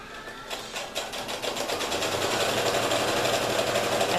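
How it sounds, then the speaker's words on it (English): A Juki MO-1000 serger stitching fabric, its rapid mechanical whirring starting with a few short bursts, then building into a steady, continuous run close by. "And literally sew right on top of that serger line."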